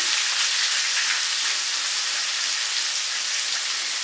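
Four medium onions sautéing in a pan for a chicken dish, producing a loud, constant close-up hiss of sizzling that holds steady throughout with no talking.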